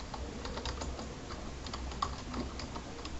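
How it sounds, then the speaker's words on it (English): Typing a search on a computer keyboard, a steady run of soft, close key clicks with no talking. "I'm going to type malware bytes."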